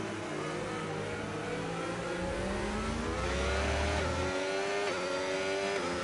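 A Formula-style race car in a Bahrain Grand Prix racing game, its engine revving hard and climbing in pitch as the wheels spin, with a continuous loud drone and a low rumble that cuts off partway.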